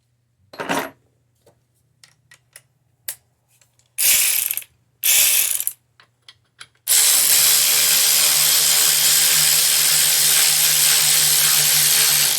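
A 13 mm socket on a ratchet drives a bolt home during a 2013 Mini Cooper R56 upper right motor mount replacement: scattered close clicks and short bursts of ratcheting, then a long steady, loud mechanical run to the end.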